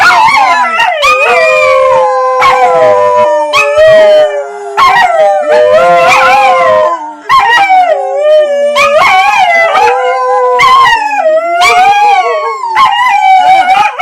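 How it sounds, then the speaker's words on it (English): Several dogs howl together close and loud, overlapping wavering howls and yips rising and falling almost continuously for about fourteen seconds, with only brief gaps. "Three-way dog harmony."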